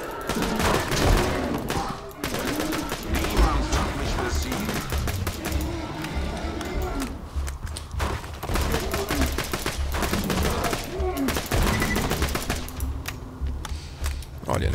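Rapid bursts of submachine gun fire from a small Uzi-style weapon in Borderlands 2, loud chattering volleys with short pauses between them, running throughout with a voice speaking intermittently underneath.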